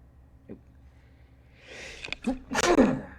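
A single sneeze breaks out after a sharp inhale, loud and close, preceded by a quiet background and a brief earlier noise.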